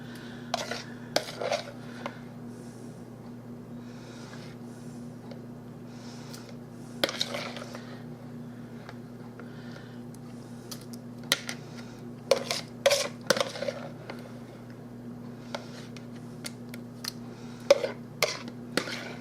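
Frozen peaches tumble into a pie dish in a home kitchen, producing scattered clinks and soft knocks in uneven bursts over a steady low hum.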